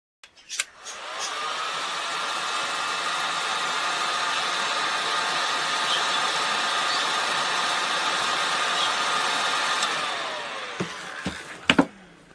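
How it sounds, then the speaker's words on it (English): A construction or regular hair dryer blows steadily while heating wax on thread, a loud, even whooshing hiss that runs for about ten seconds after a click on, then cuts off, followed by a few handling knocks. "take wax, a construction or regular hair dryer, slightly heat it and rub it onto the entire thread from both sides"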